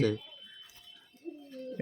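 Rajshahi giribaj pigeons at a pigeon farm give a short, soft, low coo close by, with a voice briefly at the start and end.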